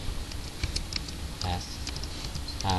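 Keys tapped on a computer keyboard while entering Thai words, a scattering of light, irregular clicks at moderate distance over a hissy room background.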